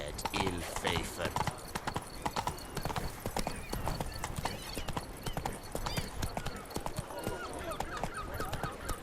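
Roach the horse galloping in The Witcher 3, rapid loud hoof clip-clops drumming close and continuous, with brief voices and game sounds mixed in.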